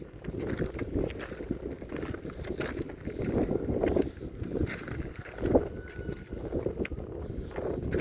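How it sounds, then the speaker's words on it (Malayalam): Steady outdoor wind on a hill viewpoint at Kunnampidarimala, Palakkad, rushing and buffeting the microphone, with low rumbling gusts that swell and ease throughout. "നല്ല കാറ്റുണ്ട്"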